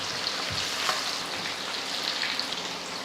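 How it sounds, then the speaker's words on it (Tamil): Water poured into a cooking pot with tomato sets off a steady, soft sizzle and bubbling hiss that carries on without pause. "அதுக்கேற்றா போல் தண்ணி சேர்த்துக்கிறேன்."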